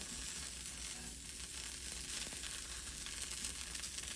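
Butter sizzles as it is spread over a hot pearl millet dish, making a steady, close frying hiss that crackles lightly throughout, with no voices.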